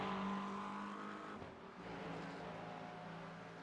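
A race car runs down the Mulsanne Straight at Le Mans in the iRacing sim, its engine a loud sustained tone that dips briefly and then resumes at a steady pitch, with no talk.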